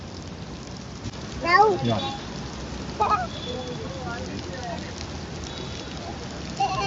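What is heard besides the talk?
heavy rain falling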